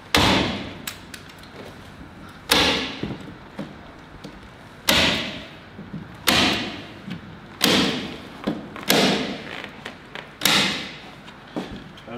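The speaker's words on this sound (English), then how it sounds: "The best way is just going to staple and use the length of the staple." A staple gun fires into a membrane while sealing a building envelope, six or seven sharp, loud snaps spaced a couple of seconds apart, each with a short ringing tail over quiet room noise.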